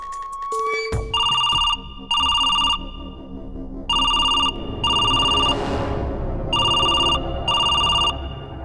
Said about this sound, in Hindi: अब फोन उठाने के भी पैसे लगी क्या?